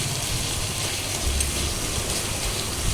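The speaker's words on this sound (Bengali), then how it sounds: "দেখুন মশলা ভাজা প্রায় হয়ে গেছে।" A spice paste of ground tomato, potato, cumin, green chili and a little coriander fries in a pan for a rohu fish curry, giving a steady, even hiss like soft rain with no voices.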